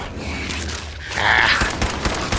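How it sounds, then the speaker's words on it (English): Pipe pistol gunfire in the Fallout 4 video game: a short burst of loud shots and mechanical clatter over a busy game soundscape, with no voices. "Let's try my pipe pistol."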